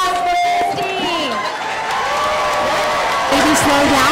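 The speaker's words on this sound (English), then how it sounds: "one more round of applause for Krysty" Crowd at a functional fitness competition applauding and cheering for an athlete, a loud continuous wash of clapping with whoops and shouting voices over it.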